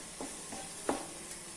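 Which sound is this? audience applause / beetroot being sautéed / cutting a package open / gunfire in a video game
beetroot being sautéed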